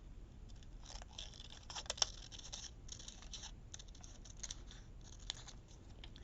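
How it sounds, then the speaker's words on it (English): Scissors snip through paper ephemera pieces for a bluebird and blossoms envelope craft, a quiet run of short crisp cuts and light paper rustles, close up with no talking. "I just want to get a few of these ephemera pieces cut out"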